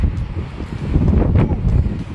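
Brisk gusts of wind buffet the microphone at a mountain overlook, a low rumbling roar that swells and fades across a couple of seconds, close and fairly loud.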